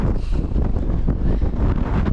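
Strong wind buffets a bare Lake District mountaintop at Crag Hill, a continuous loud roar battering the microphone with no letup.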